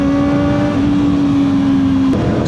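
A Kawasaki ZX4RR motorcycle with a remapped ECU, 13-tooth front sprocket and SC long canister exhaust screams at high steady revs on a dyno, a loud continuous drone whose pitch steps once, with no voices.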